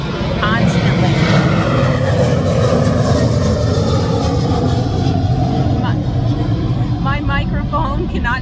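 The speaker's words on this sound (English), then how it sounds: "The planes are going to be flying over. It's going to be noisy constantly." Loud, continuous aircraft engine roar dominates, a heavy droning rumble overhead with faint chirps and voices buried beneath.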